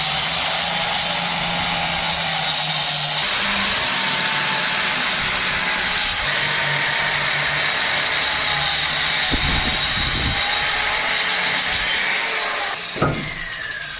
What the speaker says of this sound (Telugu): ఇలా మిషన్తో కట్ చేసుకోవాలి.